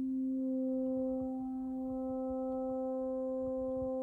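A steady sine wave tone from a Rubicon 2 oscillator holds a constant pitch near C, with faint FM overtones above it and low rumbling noise underneath, heard alone without any voices.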